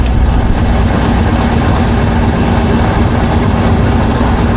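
Rotec Renegade radial aircraft engine running loud and close during a magneto check, a steady low throbbing drone with a fast even firing pulse and no break.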